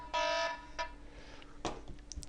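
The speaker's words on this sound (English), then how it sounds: "that's a trade alarm going off." A trading software alert sounds a brief harsh buzzing alarm tone, a short burst and a quick second pulse, followed by faint clicks in a quiet room.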